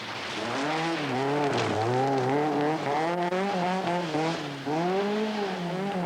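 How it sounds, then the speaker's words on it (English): A big Rover rally car on a 1982 Welsh forest stage revs up and down through the gears, its engine loud and close, rising and falling in repeated swells with tyre noise. "The big rover being nursed through the forest with obvious care."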